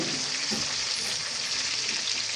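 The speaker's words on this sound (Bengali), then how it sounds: "চিকেন যেভাবে ভেজে নেওয়া হয়েছে আলুটাও সেভাবে ভেজে নিতে হবে" Potatoes fry in hot oil with a dense, steady, close-up sizzle that carries on evenly throughout, with no voices.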